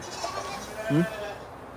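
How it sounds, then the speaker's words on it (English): A very large goat lets out one short, low bleat close by, amid a quiet outdoor background with faint talk. "Not only is he the biggest goat probably in the world, but he's got the biggest head."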